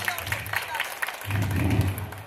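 Applause from a crowd welcoming guests at a school alumni meet, with steady clapping that swells in the second half and talk mixed in underneath.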